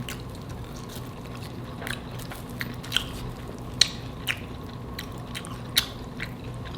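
Someone bites into and chews the flaky crust of a homemade chicken pot pie spaghetti bake. Close, wet chewing carries a few sharp crunchy bites scattered over several seconds, with no talk.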